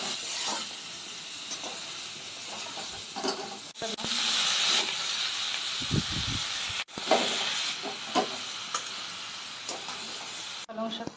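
Mixed vegetables with spinach hit hot oil seasoned with salt, cumin, coriander, chilli and turmeric for a prawn and spinach curry, giving a loud, steady broadband sizzle that breaks twice and surges back, with a few soft low thumps.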